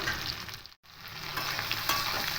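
Ridge gourd lightly frying and being stirred in a pan, a close steady sizzle with soft scraping, interrupted by a short silent gap near the start.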